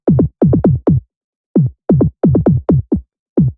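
Pitched-up kick drum hits with dispersion and widening effects, each a short punchy thump with a quick downward pitch drop, repeating in an uneven syncopated pattern with clusters and gaps, loud, dry and close with no talking.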